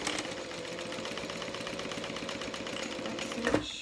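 Sewing machine back stitching a zipper pouch, a steady rapid mechanical chatter running throughout, ending in a short louder clunk near the end.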